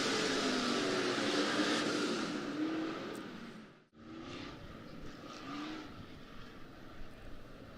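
Stock cars racing at Buena Vista Raceway, engines roaring steadily at a distance, easing off as the field works through turns three and four, then rebuilding after a brief near-silent gap, with no one talking.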